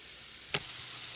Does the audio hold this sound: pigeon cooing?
no